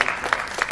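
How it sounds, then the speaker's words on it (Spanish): Applause during a Basque television charity marathon broadcast for Alzheimer's research, heard as a brief, moderately loud patter of clapping with small peaks of denser hand claps. "aplaudiendo y aplaudimos"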